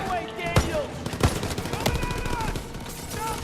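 Rifle and machine-gun fire in the Call of Duty WW2 mission Collateral Damage, with sharp, loud shots and bursts cracking every second or so over a busy battle din while a player talks.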